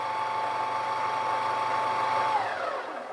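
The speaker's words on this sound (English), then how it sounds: "So it actually like spins and it'll actually like kind of mix it and then it'll kind of flush it out" A PETGUGU robot cat litter box spins and mixes its bin, giving a steady motorized whir with a faint high whine that falls away near the end.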